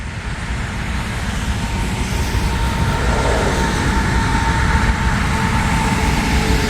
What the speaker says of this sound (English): We got an NS train coming, Norfolk Southern.